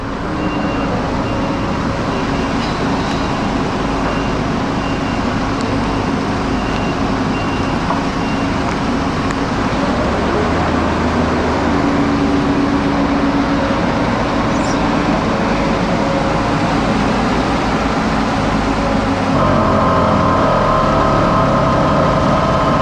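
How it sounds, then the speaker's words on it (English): A truck trailer for an RB50 video wall is raised hydraulically in Germany, giving a loud, continuous mechanical drone with engine rumble and a faint shift in pitch toward the end. "I'll lift up the trailer a little bit more."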